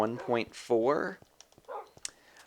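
A Minecraft wolf lets out a few short barks and whimpers, loud and close. A person talks over and between them.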